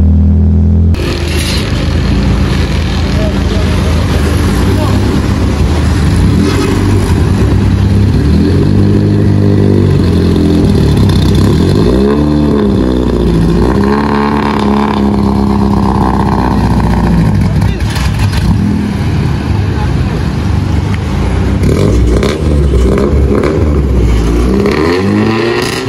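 A modified Honda Civic with a faulty silencer roars and revs with rough, clattering exhaust noise, rising and falling loudly and close throughout, with no voices over it.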